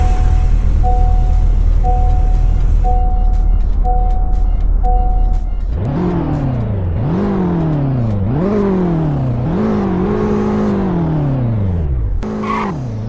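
A Honda Civic in a Roblox game idles with a steady electronic beeping, then revs through several rising gear shifts with whining engine tones, finishing with a brief tire screech; no one speaks.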